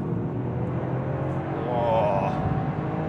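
Toyota Yaris GR Track Pack hot hatch engine pulling hard during an overtake on the road, a steady loud cabin drone that swells and rises in pitch midway, with a brief startled exclamation from the driver over it.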